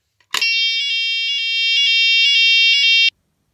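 Fire alarm siren set off by pressing a manual break-glass call point, a loud continuous electronic tone with a regular pulsing warble that starts abruptly and sounds alone for about three seconds before cutting off.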